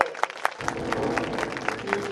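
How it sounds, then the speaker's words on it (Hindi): An audience at a religious discourse gathering gives a welcoming round of applause, fairly faint and distant, starting with a few separate sharp claps before swelling into a steady crowd patter. "जोरदार ताली से स्वागत"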